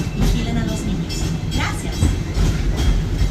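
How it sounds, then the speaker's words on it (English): The Wildlife Express train at Disney's Animal Kingdom rumbles along at close range, a continuous loud clatter of wheels and carriages with some faint voices mixed in. "This is the only train you can ride in Disney right now."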